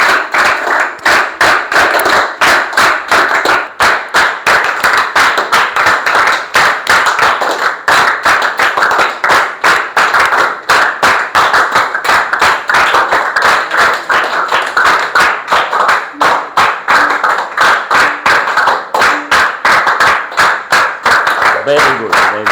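A school audience clapping hands together in a steady rhythmic beat, loud and close, continuing unbroken for a long stretch.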